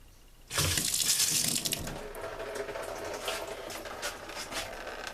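Water gushes loudly from a tap after a brief quiet start, then settles into a steady, slightly softer running stream.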